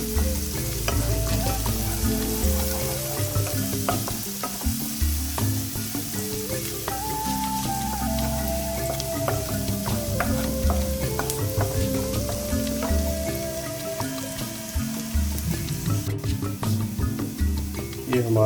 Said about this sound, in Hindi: इसको थोड़ा हम हिलाएंगे, थोड़ा सा इसको हम गोल्डन ब्राउन होने देंगे प्याज को।